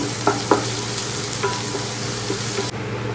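Onions tossed into a hot pan with fried okra for palya, a constant bright sizzle with a few quick stirring scrapes, close and loud, then the sizzle continues more quietly.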